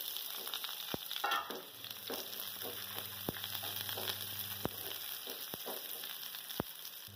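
Chopped onions sizzle steadily in hot oil in a home kitchen, a soft continuous frying hiss with occasional sharp ticks from a spoon against the pan.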